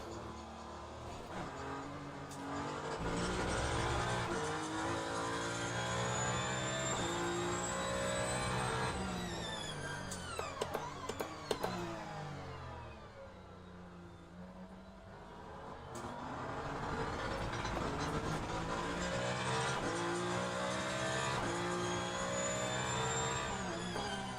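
Peugeot 9X8 race car engine in the Le Mans Ultimate racing game, driven on a wet track, with a continuous loud engine note that rises through the gears, dips briefly mid-lap with a few sharp clatters, then climbs again.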